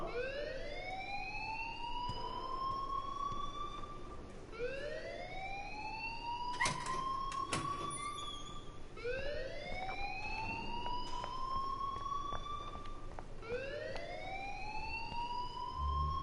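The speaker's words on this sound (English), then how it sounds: "please turn off that alarm since that's your job" A repeating electronic alarm in a PS4 game rings alone in rising whoops, about four sweeping cycles with a few sharp clicks between them, steady and fairly loud throughout.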